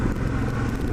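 A 2017 Suzuki DL650 V-Strom base model motorcycle rides along, a short burst of steady engine drone mixed with wind and road noise.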